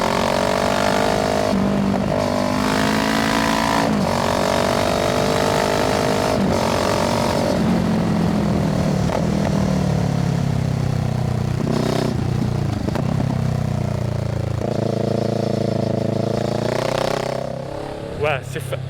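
A Kawasaki Z650 motorcycle with an IXIL exhaust rumbles and revs continuously as it rides past, its engine pitch rising and falling while someone talks over the sound.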